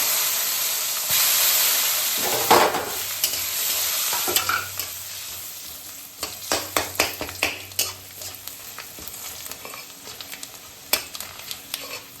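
Bay leaf, panch phoron and dried chillies frying in hot oil: a loud sizzling hiss that settles into steady crackle, with repeated close spoon scrapes and clicks from stirring.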